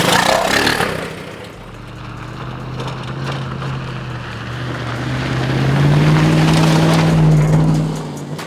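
A car fitted with a Magnaflow Overland cat-back exhaust pulls away, its low, throaty drone swelling and rising in pitch as it accelerates, loud and close with no talking.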